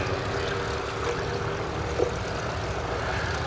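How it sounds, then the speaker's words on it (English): A Rotorsport UK Calidus gyroplane flies past at the Duxford Summer Airshow, its steady engine and rotor drone carrying broad and fairly even through the whole stretch, with no voices over it. "Peter Troy Davies going past us, both hands off the controls, waving at you."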